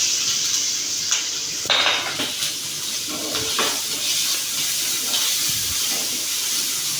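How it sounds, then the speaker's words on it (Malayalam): Garlic, ginger and green chilli sizzling in hot oil in a pan, a constant bright hiss with a few faint clinks and stirring knocks, close and steady throughout. "ഇതിലേക്ക് വെളുത്തുള്ളി, ഇഞ്ചി, പച്ചമുളക് ഇട്ട് നല്ലോണം വഴറ്റി കൊടുക്കാം"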